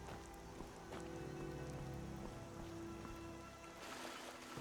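Rain falling in the Skyrim video game, a steady soft patter and hiss of drops on surfaces continuing throughout at low level with no voices.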